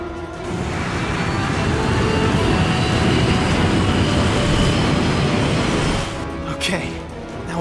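A game aircraft powers up and takes off from an island base in Resident Evil: The Darkside Chronicles, a loud, steady engine roar that builds and holds for several seconds before easing off.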